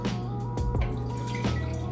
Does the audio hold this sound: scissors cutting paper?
no